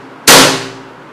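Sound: Colt 1911 blowback airsoft pistol firing

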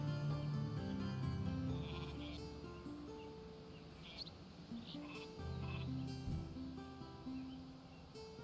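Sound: sheep bleating in video game Northgard

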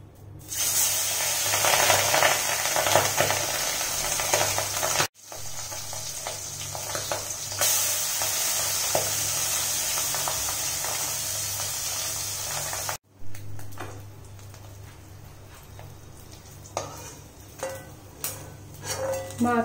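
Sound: pabda fish frying and sizzling in hot oil in a wok

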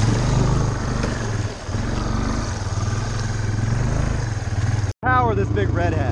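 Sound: Honda Big Red ATV engine running in flood water

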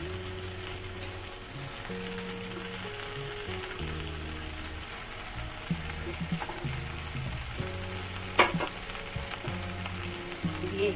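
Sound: bottle gourd leaves frying and stirred in a pan

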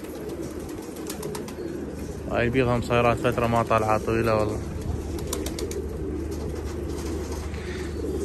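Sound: pigeons cooing in a loft

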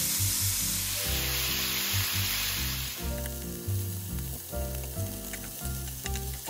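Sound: pork belly sizzling while frying in a pan

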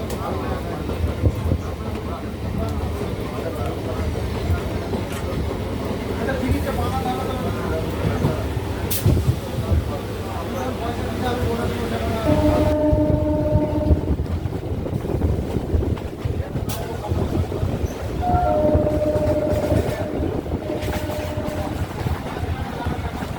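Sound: train running into Belur railway station

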